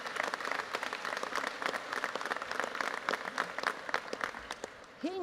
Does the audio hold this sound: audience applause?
yes